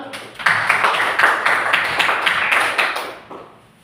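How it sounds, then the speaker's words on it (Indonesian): A classroom of students claps in a burst of fairly loud, dense applause that fades toward the end. "Ya, tepuk tangan."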